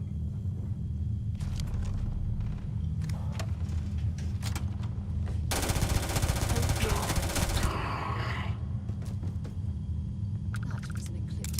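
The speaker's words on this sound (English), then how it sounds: "There's shooting going on." Gunfire from a shootout in the sci-fi game Starfield, with scattered shots giving way to a loud, dense burst of rapid fire midway, all over a steady low rumble of game ambience.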